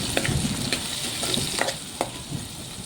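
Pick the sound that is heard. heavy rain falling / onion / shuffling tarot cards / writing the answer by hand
onion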